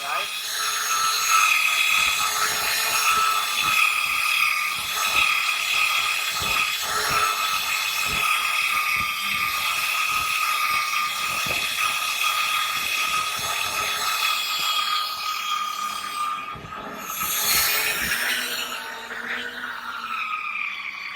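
A drill bores screw holes into a 25-millimetre-thick steel roller for a roll forming machine, whining and grinding steadily up close with rattling mechanical clicks throughout; a voice speaks over it.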